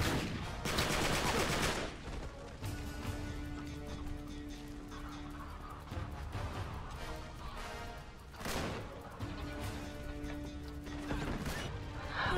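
Weapon fire in Uncharted 3 comes in a few sharp bursts of shots and clatter, spread across the stretch, with tonal game music humming between them.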